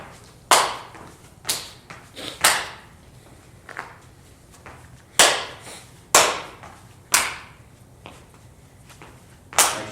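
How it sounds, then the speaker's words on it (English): Sharp hand claps land together with both feet hitting the floor during a jumping drill in a fusion workout, about eight crisp, loud impacts in an irregular rhythm with quiet room tone between them. "we want to time that clap with the contact on the ground, so making sure both feet hit the ground at the same time as we clap"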